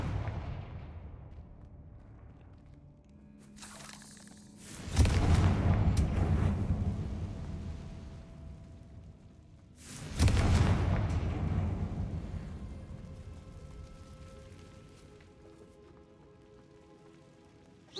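Two heavy blasting-spell explosions in Hogwarts Legacy, each a deep, booming burst whose rumble lingers and slowly decays, spaced about five seconds apart over a quiet backdrop.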